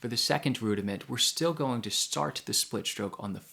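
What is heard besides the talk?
No everyday noise stands out behind the speech.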